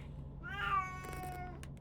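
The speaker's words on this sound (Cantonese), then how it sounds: "貓貓，你唔好嘈" A pet cat lets out a single soft, drawn-out meow, fairly quiet, over a low steady background hum.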